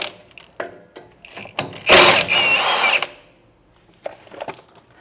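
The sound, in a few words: removing brake assembly bolts with a 9/16 socket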